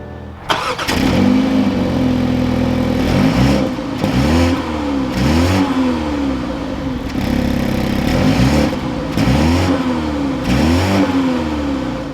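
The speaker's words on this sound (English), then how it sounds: "Let's fire up this 228i." A 2023 BMW 228i Gran Coupe M Sport starts with a sharp crank and catch, then settles to idle between several quick, loud revs that rise and fall in a steady rhythm, close to the microphone with no talking.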